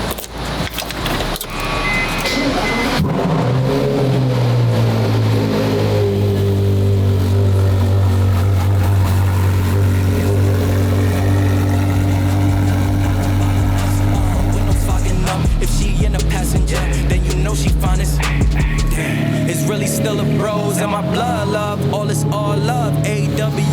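A Porsche Carrera GT's V10 engine cranks and fires up close by, settling into a loud idle, then rising and falling through several sharp revs with the pitch sweeping up and down before dropping back.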